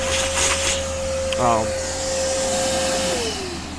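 A vacuum cleaner runs steadily with a high whine and airy roar, briefly joined by a short buzzing sound midway before the motor pitch drops, while cleaning salt from a wire harness on a Ford 6.7 Powerstroke plow truck.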